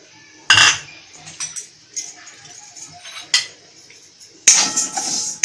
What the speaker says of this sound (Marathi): पहिली उडदाची डाळ टाकते मी भाजायला.